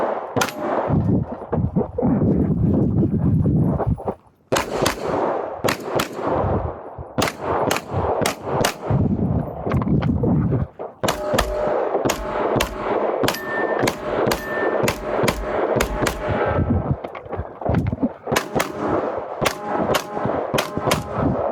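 Pistol shots fired on a USPSA match stage, loud sharp cracks in quick strings and pairs with brief pauses between groups and metallic clangs of steel targets ringing among them, no talking.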